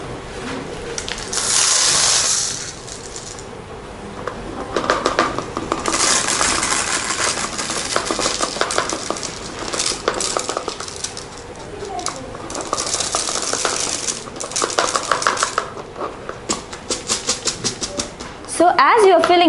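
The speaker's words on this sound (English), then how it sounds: "I will first empty the rice into the bottle using the funnel" Rice pours through a funnel into a bottle, a dense continuous rattling patter of grains that runs almost unbroken for about twenty seconds, close and fairly loud, with a sharper clatter at the end.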